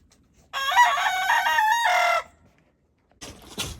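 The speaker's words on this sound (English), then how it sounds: "he has been a magnificent rooster and a lot of fun" A rooster crows loudly and close by in one long, full call, then falls silent before a second crow begins near the end.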